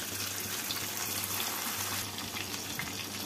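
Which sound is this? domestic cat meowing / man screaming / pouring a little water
pouring a little water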